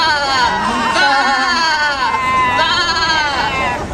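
At an outdoor vegan street rally in New York, a human voice mimics crying sheep with several wavering, plaintive bleats in a row, loud and close.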